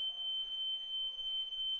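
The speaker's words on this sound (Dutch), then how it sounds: "alarm is going off here" Continuous shrill tone of a home smoke alarm set off by a smoke machine, one sustained piercing pitch running the whole time with faint room noise beneath.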